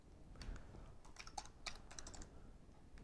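Someone types a command into a terminal on a computer keyboard while setting up a Raspberry Pi 2, with a quick, uneven run of close, light key clicks and no talking.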